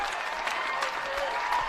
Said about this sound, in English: Ashland crowd coming alive.